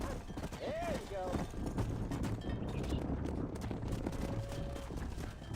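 In Red Dead Redemption, a horse's hooves clip-clop steadily in a brisk, continuous rhythm beneath busy game ambience, with a short tonal call early on.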